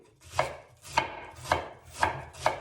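A knife shreds a head of cabbage on a cutting board, five close, crisp chopping strokes in a slow, even rhythm, with no talking.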